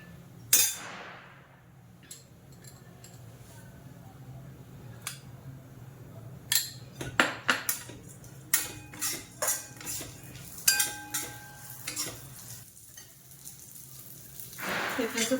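Almonds dry-roasting in a pan for a Diwali rava sweet made with wheat flour: a spatula repeatedly clinks and scrapes against the pan in uneven bursts over a faint, steady sizzle, with no voices.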